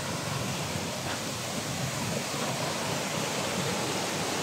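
Broadband rushing flow of a river, steady and loud with no breaks, a continuous watery roar filling the whole clip.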